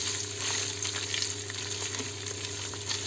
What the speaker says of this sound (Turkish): İyi bir kavuracağım. Arpa şehriyelerimi, pirinçlerimi.